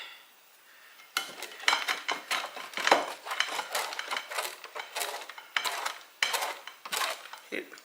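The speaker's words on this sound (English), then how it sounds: "keeps the butter from sticking to the grater. You can almost hear it." Frozen butter being grated on a metal grater for buttermilk biscuits, a steady series of scraping, rasping strokes close up, with brief pauses between passes.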